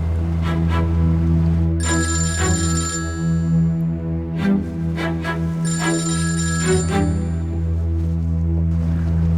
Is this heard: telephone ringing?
yes